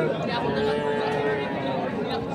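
At a rural cattle market in Ambari, Dinajpur, a calf moos in one long, loud, sustained call close by, with crowd chatter and market noise underneath.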